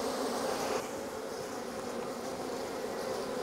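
Honeybees at a beehive on Lesbos, tended by a beekeeping cooperative, make a dense, steady buzz of many wings, close and continuous throughout with no talk.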